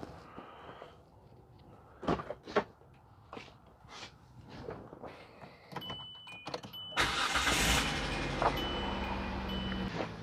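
A few knocks and clunks, then a car engine cranks and catches, settling into a steady idle close by.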